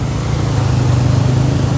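A motorbike engine runs steadily at close range on a valley ride in Skardu, a low, even rumble holding constant throughout with no talk over it.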